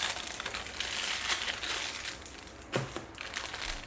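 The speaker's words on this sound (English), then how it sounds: "Put it back in the plastic bag in just a second" Plastic bag crinkling and rustling during a Fujifilm X-T4 camera unboxing, a steady close-up crackle running throughout with a sharper crunch near the end.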